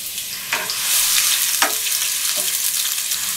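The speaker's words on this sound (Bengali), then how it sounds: "পেঁয়াজগুলো নরম হওয়া পর্যন্ত আমি একটু ভেজে নিলাম।" Chopped onions, three medium ones, frying in two to three spoonfuls of olive oil, a steady close sizzle with a few soft scrapes of stirring.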